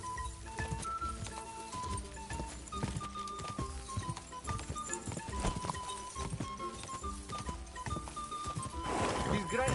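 Horse hoofbeats clip-clopping with occasional whinnies in the video game Kingdom Come: Deliverance 2, steady and prominent throughout under game music and someone talking.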